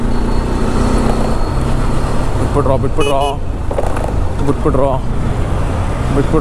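A motorbike moving through busy city traffic at a signal, with constant loud engine and road noise, passing vehicles and horn-like tones, and a voice talking over it.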